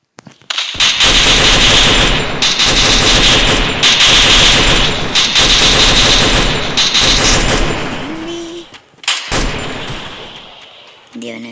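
Rapid, loud machine-gun bursts fire almost without a break in the Free Fire video game, with brief pauses near the end and faint voices mixed into the game sound.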